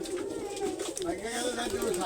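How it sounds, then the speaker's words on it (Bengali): Domestic pigeons kept in a small space coo in soft, repeated throaty calls, close by, with a faint voice murmuring underneath. "এই দেখেন কবুতর ডাকগুলো সুন্দর লাগে"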